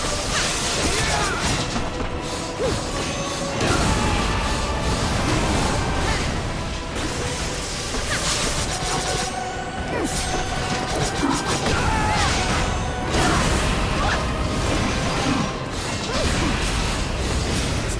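A Divine Raging Bolt attack in the video game Valkyrie Elysium, heard as a dense, loud run of mechanical crashes, whooshes and heavy impacts that goes on without a break, with a few booming hits standing out.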